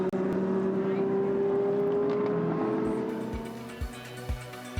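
Sports cars on the Algarve circuit drone with steady engine roar in a GT race, their tone slowly falling as they move off, with a few low thumps near the end under faint talk.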